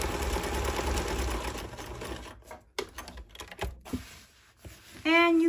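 A sewing machine runs through a dense, steady stretch of stitching on a banana leaf placemat, then breaks into short stop-start bursts as the stitching eases through a turn, followed by a brief tonal whir near the end.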